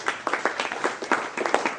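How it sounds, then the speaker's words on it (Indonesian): A church congregation claps for Jesus, rhythmic unison clapping at a steady beat, moderately loud over a faint hum of the room. "Tepuk tangan dulu dong buat Tuhan Yesus."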